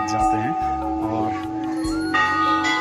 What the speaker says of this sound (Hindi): इंसाफ की निशानी ये घंटी है